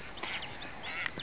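Ducks calling and quacking as they fly over a lake in a nature reserve, a few short harsh calls in quick succession, fairly faint and distant over quiet outdoor background.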